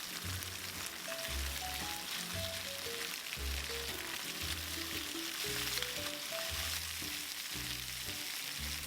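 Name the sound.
chicken wings frying in a wok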